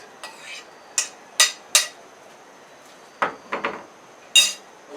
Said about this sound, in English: Going into the frying pan on a low heat.